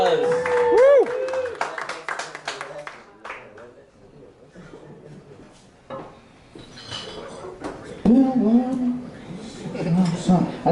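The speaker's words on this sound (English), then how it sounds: "Let's give a round of applause." Scattered clapping and a whoop from a small audience at a stand-up comedy show, brief bursts rather than a full ovation, mixed with a performer's voice and some clattering noises.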